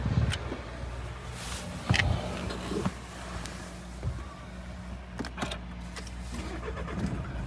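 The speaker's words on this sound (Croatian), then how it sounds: "Sad ću vam pokazati kako auto radi." A Nissan Qashqai diesel car idles close by with a steady low engine hum, broken by a few clicks and thuds from the car that stand out above the running engine.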